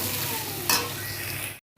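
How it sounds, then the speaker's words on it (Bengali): Fried masala with ground coriander and cumin being stirred in a pan: close, steady sizzling with spoon scrapes and one louder stir, ending in a sudden cut to silence. "এটা দিয়ে একটু নেড়ে চেড়ে তারপরে গরম জল দেবো"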